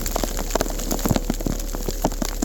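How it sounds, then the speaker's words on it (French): Hail pelting down in a violent thunderstorm, a dense, close patter of irregular impacts on surfaces with no voices. "il y a de la grêle qui tombe"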